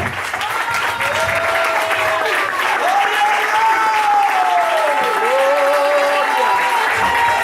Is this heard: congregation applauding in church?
yes